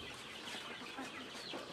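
Chicks and chickens cluck softly in a chick nursery pen, a faint, distant-sounding patter of small calls over a quiet hiss.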